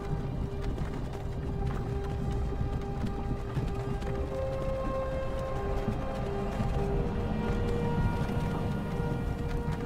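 Horse hooves clopping at the opening of the video game Skyrim, a steady clip-clop of a cart horse under a constant low rumble of wheels and ambience, with faint tonal music lines throughout.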